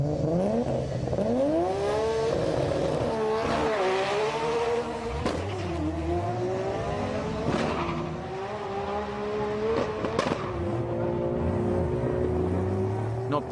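A Pro Drag Japan drag race car, a Nissan R32 customer build, accelerates hard through its gears with a rising, wailing engine note and tire squeal. A voice talks over the car throughout.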